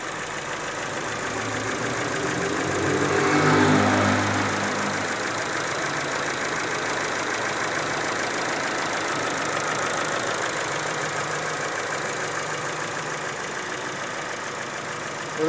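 A Chevrolet Cruze engine that burns oil idles steadily and close by, a continuous mid-low hum and rattle that swells briefly before settling, with no voices.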